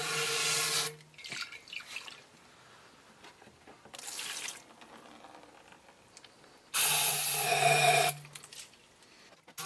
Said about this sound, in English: first thing I'm gonna do is wash this thing out with brake cleaner